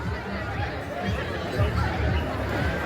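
Dense crowd chatter gathered at the start of the Sunninghill wheelbarrow race behind St Michael's School, a steady babble of many voices with occasional laughter throughout.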